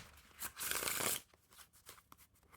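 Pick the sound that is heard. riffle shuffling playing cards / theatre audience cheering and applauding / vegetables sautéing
riffle shuffling playing cards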